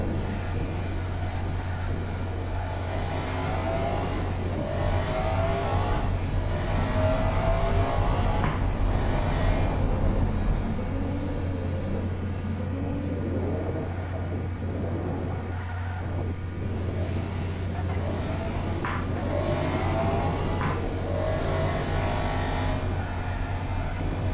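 A Gran Turismo race car engine drones steadily at a low, even pitch with repeated rises and falls as it revs and shifts through gears, loud and sustained from start to finish.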